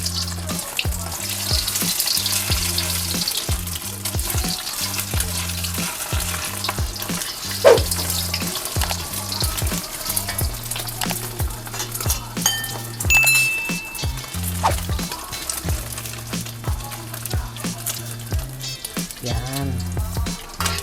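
Egg omelette frying in a pan for fried rice, a steady loud sizzle running throughout with occasional utensil clinks and stirring scrapes.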